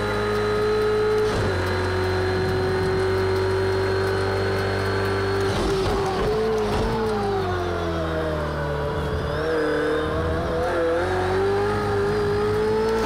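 A GT3 race car's engine drones steadily at high revs in Project Cars 2 at the Nurburgring, its pitch shifting and wavering through gear changes and turns, loud and continuous throughout.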